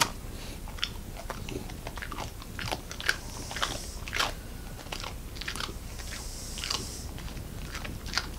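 An American Eskimo dog chews and crunches a cookie up close, giving repeated crisp biting crackles at an uneven rhythm with no talk.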